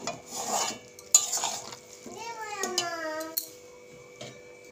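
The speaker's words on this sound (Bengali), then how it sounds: "এবার ভালো করে নাড়াচাড়া দিয়ে নামিয়ে নেব।" A spoon stirs ghugni, a curry of dried peas, in a pan with a few scraping clinks against the metal, alongside a sharp tap and a faint tonal squeak, quiet and close.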